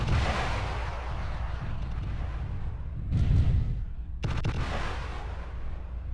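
Missiles launching in the mech combat video game MechWarrior Living Legends, a loud rumbling burst of fire with a second blast near the end, heard alone without talk.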